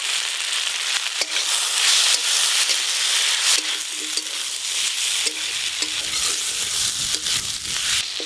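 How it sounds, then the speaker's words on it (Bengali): Cumin and ginger paste fry hard in a pan with a steady, bright sizzle, as a spoon stirs it in short scraping strokes close by; no voices. "মশলা দিয়ে একটু ভালো করে নেড়ে নিয়েছি"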